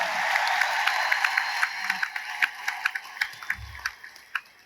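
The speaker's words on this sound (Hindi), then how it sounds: "इस बात के लिए इतनी सी तालियां बहुत कम मानी जाएगी" A large crowd at an anniversary gathering applauds steadily, with individual sharp claps standing out. Low rumbles sit beneath it, and the applause thins slightly toward the end.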